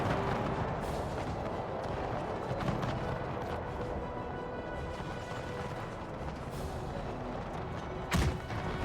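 Artillery firing in Empire: Total War battle, scattered deep booms and thuds over a continuous rumbling din of battle, with one sharp, louder blast near the end.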